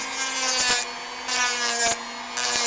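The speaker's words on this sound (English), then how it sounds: "You grind it on an angle, just like this." Grinding the top ring off a part at an angle, a harsh, steady abrasive whine in close bursts separated by brief dips as the tool is repositioned.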